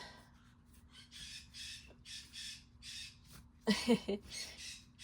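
A pet bird indoors squawking at a deer seen outside gives a loud burst of harsh, raspy calls mid-clip, standing out against a steady run of softer, repeated chirps and a low background hum.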